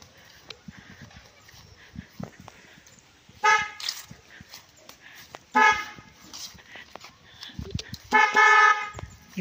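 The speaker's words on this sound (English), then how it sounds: "That is one of the best honks." Three short bursts of a car horn honking, each loud and clipped, with quieter background rumble and scattered noise between them.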